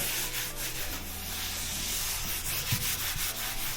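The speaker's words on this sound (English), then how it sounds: "And when we sand this down now" Hand sanding on a Ferrari GTO body surface, a steady abrasive rubbing that runs continuously and close, with a faint low hum underneath and no talking.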